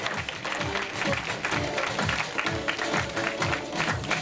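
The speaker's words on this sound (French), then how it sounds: "Merci d'applaudir encore Elisa Longo-Bandini." Audience applause at a women's cycling race prologue in Brittany, cheering rider Elisa Longo-Bandini; a dense, steady wash of clapping with a rhythmic low thumping beneath and faint voices mixed in.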